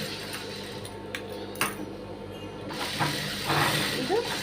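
Sewing machine stitching a high-neck blouse at the shoulder, a steady close mechanical whir and rattle of the needle running continuously, with brief clicks and shifts in pace.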